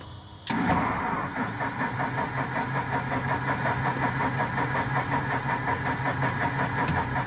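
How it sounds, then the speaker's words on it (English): A Cessna Bird Dog's engine kicks in abruptly after a brief quiet lead-in, then settles into a loud, rough, rhythmic running chug that continues steadily. "The engine is less than enthusiastic."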